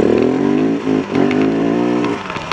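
KTM 690 motorcycle engine running close and loud, a steady harmonic drone with small rises and dips in revs and a brief lull midway.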